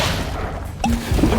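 Incendio fire spell cast in Hogwarts Legacy, a sudden loud burst that breaks through a dense, constant wash of game noise, followed by a brief tonal ring.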